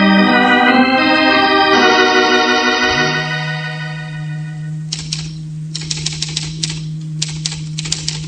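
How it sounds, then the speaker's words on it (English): Old typewriter keys clack in quick irregular bursts, following a sustained musical tone that fades into a low hum, with the typing rattling on fairly close and clear. "Well, I'm just typing."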